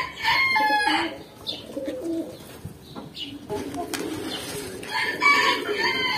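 Pigeons cooing in their loft in Baku, soft repeated coos and throaty calls close by, with some rustling and faint voices in the background.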